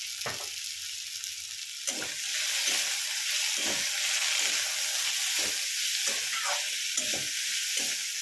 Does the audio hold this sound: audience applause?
no